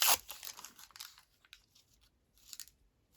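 Baking paper rips and crumples in close, quiet bursts: a loud crinkly tear at the start, a few scattered rustles, then another short crinkle near the end.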